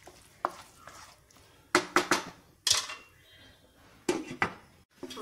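A spoon stirs a pot of pepper chicken with coconut milk and salt, giving clanks and scrapes against the metal, then a lid is set on. The sounds come in close bursts with quiet gaps and no talking.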